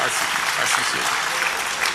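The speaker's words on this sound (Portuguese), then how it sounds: "Faz o menor sentido aplaudir isso." Steady applause from a large audience, dense clapping that stays even throughout without a break.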